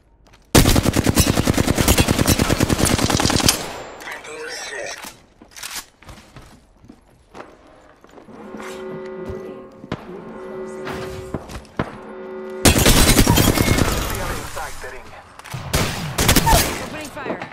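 Automatic weapon fire in Apex Legends during a ranked match, loud rapid bursts of shots in two long volleys with sporadic single cracks and clatter between them, game voice lines briefly heard.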